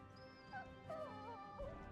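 A dog whimpers softly in Final Fantasy XVI, a few faint rising whines and yips over low background game ambience.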